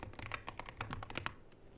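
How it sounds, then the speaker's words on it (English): Quick run of keystrokes on a computer keyboard as a console command is entered for a Half-Life 2 speedrun setup, close and fairly quiet clicks in an irregular burst lasting under two seconds, with no talking. "You can do this by typing in bind and then the key."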